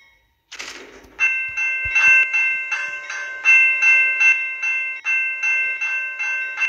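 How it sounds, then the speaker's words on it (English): A video game level crossing bell rings in a steady, repeating series of bright electronic dings as a train approaches, starting after a short burst of noise. "Let's just wait for the train to pass by."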